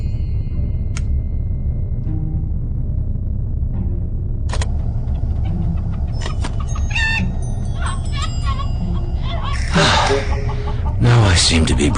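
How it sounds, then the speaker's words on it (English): A rooster clucks in the video game Voyage (Journey to the Moon), with scattered short clucks and calls over a steady low rumble, followed by louder clattering bursts toward the end. "here's the rooster I smuggled on board"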